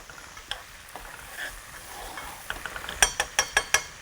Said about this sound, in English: We'll go ahead and stir it up.